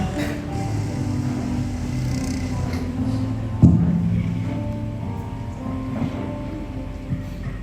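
Thunderstorm sound effect for a Christmas stage play put on by Stikes and SMK Lakipadada at a hotel in Makale, Tana Toraja: steady rain-like hiss throughout with a single sharp thunder crack midway, then low rumbling.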